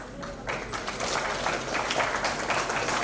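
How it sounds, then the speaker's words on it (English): An audience applauds a moderator being introduced at a panel discussion, dense clapping that picks up after a brief moment and continues steadily for a few seconds. "Let's give him a round of applause."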